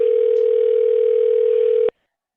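A steady telephone tone heard while power dialing sales leads, one continuous loud electronic hum that holds unchanged for nearly two seconds and then cuts off abruptly, with no voices.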